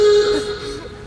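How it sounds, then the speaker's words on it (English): A brief, nasal old-car-horn honk on an organ, a steady buzzy tone that fades over about a second, played alone. "sounds like an old car horn."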